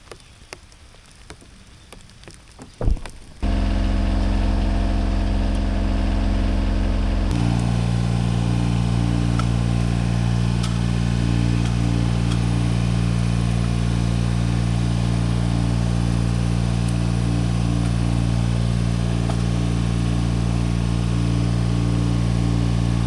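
A loud, steady tractor engine rumble starts after a few seconds of quieter handling noise and idles continuously, deep and close throughout.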